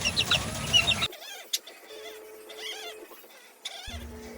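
Chicks about two to three weeks old chirp and cluck in a series of close, fairly loud calls at the start, with softer scattered peeps following over a quieter background.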